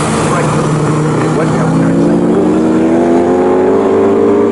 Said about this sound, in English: Big heavy American muscle car pulls away in a straight line